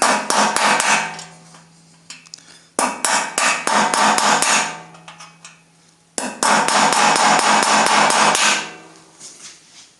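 Sharp repeated hammer blows on a small chisel against a damaged screw in a steam press, coming in three loud clusters of quick metallic strikes separated by brief pauses.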